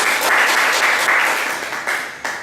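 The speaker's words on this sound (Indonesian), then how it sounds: "mungkin kita berikan aplaus kepada beliau" An audience applauds a philosophy professor after a university lecture at Unpad, giving steady, dense clapping for a couple of seconds with no talking over it.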